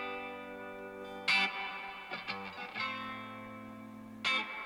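An effects-laden electric guitar tone preset from ToneNET plays on a ToneX Plug, with sustained chords ringing out and a few strummed changes, clean and alone.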